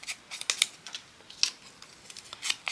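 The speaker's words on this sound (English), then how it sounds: "I'm going to have to just snip this little tiny bit off" Scissors snip a tiny bit of paper off a Christmas-themed scrapbook page, a quick, close run of crisp little cuts and clicks, some clustered and some spaced apart, with no voices.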